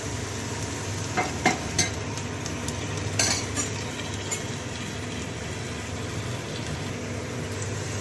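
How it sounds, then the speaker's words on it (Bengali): Food fries under a lid in a pan, a continuous muffled sizzle broken by a few clinks and scrapes of a utensil stirring, close and moderately loud. "ঢাকা দিয়ে দিয়ে ভাজবো, তাতেই হয়ে যাবে।"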